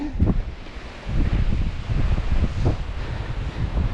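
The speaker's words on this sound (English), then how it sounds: "Did we mention it was windy?" Strong gusty wind buffets the microphone in rumbling bursts, loud and close, with no voices.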